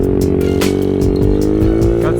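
A Honda Ruckus scooter pulls away uphill, its small engine droning with a steady, rising harmonic whine throughout, loud and close, with slight wavering pitch as it accelerates.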